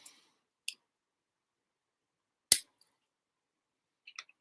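Lego pieces from the Razor Crest build snapping together: a few sharp, isolated clicks spread across a quiet stretch, one louder near snap in the middle and faint ticks at the end, with no talk.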